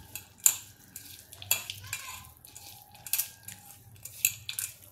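Bhel being stirred with thick tamarind chutney, utensils clinking and scraping against a bowl in a series of sharp taps and light rustling mixes, close and moderately loud.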